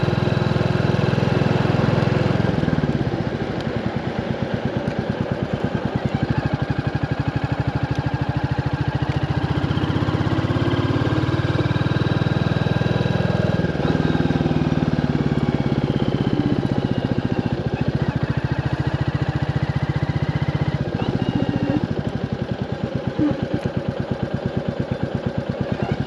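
A Royal Enfield 350 Classic single-cylinder engine thumps steadily while riding, loud and close, with rising and falling revs and constant wind rush over roughly twenty-six seconds, no voices.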